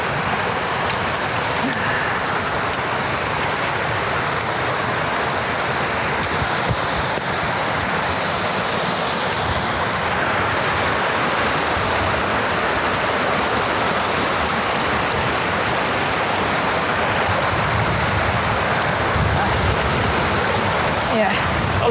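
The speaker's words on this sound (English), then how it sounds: "Oh, there's the waterfall." Alpine waterfall roaring as a dense, steady wash of rushing water, loud and continuous throughout, with faint voices now and then beneath the noise.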